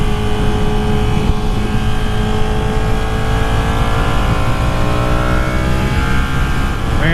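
Ducati Panigale 959 sport motorcycle engine heard from the rider's seat on a test ride, a loud continuous drone that rises and falls in pitch with throttle changes and wind noise.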